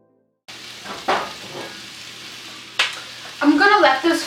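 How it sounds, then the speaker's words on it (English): Onions and potatoes hit hot oil in a pan, sparking bursts of sizzling and frying, with a couple of louder crackling surges as the food settles and sputters, close up. "So the oil's hot. I'm going to go ahead and add both the onions and the potatoes directly."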